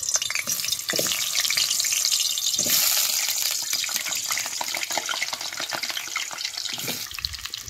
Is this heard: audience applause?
no